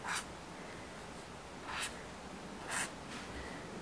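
A thin felt-tip pen nib draws small stamen marks on paper. Three soft, brief scratchy strokes arrive at an even pace and stand alone, close but faint, over a quiet hiss.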